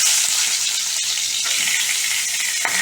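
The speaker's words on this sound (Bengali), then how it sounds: "এই আমগুলো আমি এর উপরে ভেজে নেব" Mango pieces fry in a thin film of oil for a mango chutney, a steady close bright sizzle running throughout with a brief stirring clatter near the end.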